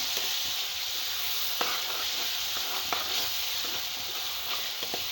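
Onions and tomatoes with turmeric frying in a pan for chicken curry, a steady close sizzle with a few scraping stirs of a spoon across the pan.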